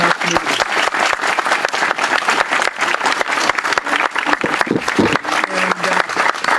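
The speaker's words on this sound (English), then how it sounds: "I'd like to ask for one more round of applause for the great young leaders from our community" A crowd at a community award ceremony applauds young leaders, a loud, steady wash of many hands clapping close by, sustained without a break.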